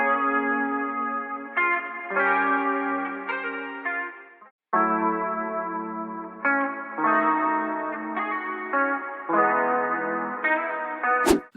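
Guitar pitched down for a lofi remix of a song, played as slow, sustained harmonic chords with chorus and echo-like effects, steady and loud throughout with a brief break in the middle.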